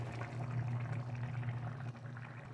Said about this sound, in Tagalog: Lagyan natin ng kunting suka